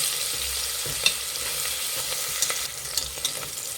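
Finely chopped fenugreek leaves fry in a couple of tablespoons of oil, giving a soft continuous sizzle with a few small crackles and utensil taps scattered throughout.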